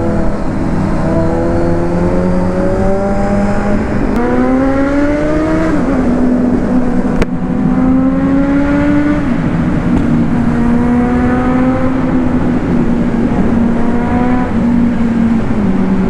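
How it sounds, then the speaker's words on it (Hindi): A powerful superbike engine, from a Kawasaki Z900 or Hayabusa, revs repeatedly on a highway, its pitch climbing and dropping through gear changes, loud and sustained over a steady road rumble. "जो बाइक आवाज कर रही है ना, इतनी प्यारी कर रही है ये"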